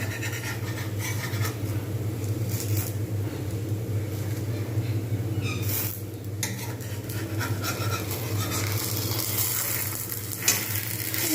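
Patishapta pitha, a rolled Bengali winter crepe, sizzles steadily as it fries in a pan, with occasional scraping and stirring of a utensil close by and no talking.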